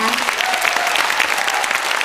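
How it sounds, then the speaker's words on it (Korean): Staff audience at a provincial year-end employee gathering and award ceremony applauds, a brisk, even round of many hands clapping, fairly loud and sustained with faint voices underneath. "다시 한번 큰 박수로 축하해 주시기 바랍니다"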